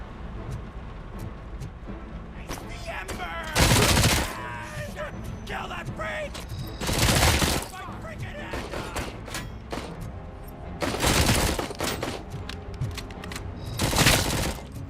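Weapon fire in RoboCop: Rogue City comes in repeated loud bursts spaced a few seconds apart, over a steady background game soundscape.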